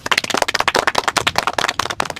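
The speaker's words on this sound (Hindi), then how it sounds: "बजाओ ताली।" People clap hard and fast, the sharp slaps close and loud in a dense, uneven burst that runs the whole way through.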